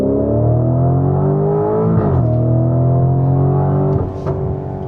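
A Lamborghini Urus SE cruises in second gear in Corsa mode, its engine holding a loud, steady drone close by with small shifts in pitch and a slight dip in level near the end.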